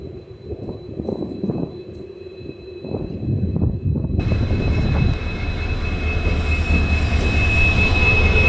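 A WDP-4D diesel locomotive rolls in to couple onto the train, its deep engine rumble building steadily and loudly with a sustained high whine joining midway, heard up close without talk.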